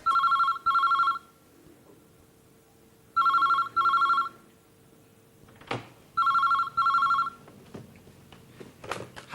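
An old-fashioned telephone bell rings in bursts of two trills, repeating three times in a quiet room, with small clatters of movement between the rings.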